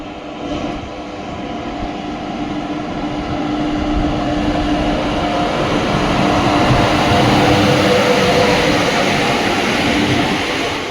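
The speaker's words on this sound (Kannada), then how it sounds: "ಈಗ ಆ ಟ್ರೈನ್ ಜೊತೆ ನಮ್ಮ ಟ್ರೈನ್ಗೆ ಕ್ರಾಸಿಂಗ್ ಆಗ್ತಾ ಇದೆ" An express train rumbles past close by as it crosses a moving train on the Mangaluru to Goa line, a loud continuous roar and rattle of wagons that swells and holds steady throughout.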